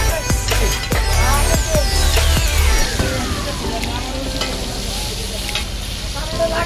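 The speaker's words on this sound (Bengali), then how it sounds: "ইলিশ ভাজা আপনার যেমন মন চায় তেমনইভাবে তারা ভেজে দিতে পারবে" Hilsa fish frying in hot oil at a ferry ghat eatery sizzles continuously, with clinks and stirring scrapes up front and a passing engine sweeping by in the background.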